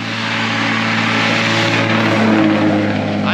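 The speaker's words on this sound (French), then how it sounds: "Ah, les camions ils font du bruit." Trucks pass on a road in Brazil, a loud, steady engine drone close by that holds for a few seconds.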